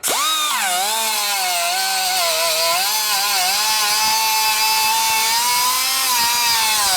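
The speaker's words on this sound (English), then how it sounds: "I like to use our little Air 3-inch cutoff wheel" Small 3-inch air cutoff wheel grinding through metal on a 2019+ Chevy/GMC 1500 truck during a lift kit install, a loud, close, continuous high whine with a wavering pitch.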